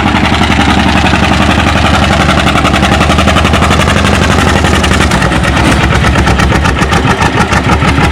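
A John Deere A tractor engine pulls hard against an 8 mph sled at a tractor pull, a loud, steady, rapid popping exhaust throb that roughens and deepens near the end.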